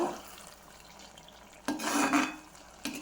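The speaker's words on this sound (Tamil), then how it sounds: "ஆயில் நமக்கு வெளியே வர வரைக்கும் கிளறி விடுங்க" A spoon stirs tomato thokku in a cooking pan, with soft scraping that gives way to two louder bursts of stirring and clattering near the end.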